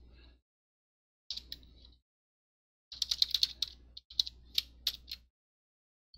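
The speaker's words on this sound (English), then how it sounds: "I'm just going to pop in a product key that I'm making up here just for the demonstration" Keys on a computer keyboard tapped in short bursts while entering a product key, crisp close clicks in separate clusters with pauses between them and no talking.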